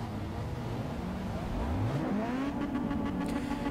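A Mazda RX-7 race car in Forza Motorsport 6 revs up, its engine note climbing sharply in pitch then holding a steady high whine, fairly quiet and without talk.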